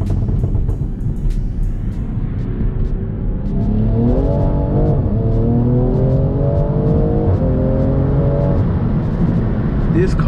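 BMW M340i accelerating hard, its engine note climbing through rising gear pulls with brief dips at the shifts, loud and close over steady road and wind rumble.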